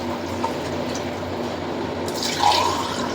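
Liquid is poured while lemon water is being made, a steady trickling fill that swells into a brighter splash near the end, over constant background noise and without speech.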